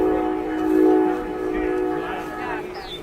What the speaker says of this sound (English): so you might be able to hear those trains too.